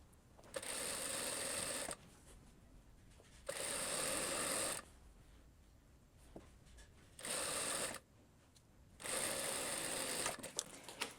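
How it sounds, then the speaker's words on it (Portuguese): Sewing machine running a fine seam about half a centimetre wide, with four separate bursts of steady, fast stitching broken by short quiet pauses, close and fairly loud. "vou primeiro começar fazendo uma costura fina, de aproximadamente meio centímetro"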